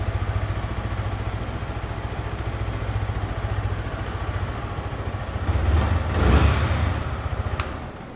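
A 2025 Yamaha R15M OBD2B motorcycle idling close by, a steady low exhaust thrum and mechanical clatter that swells briefly with a small blip near the end before settling.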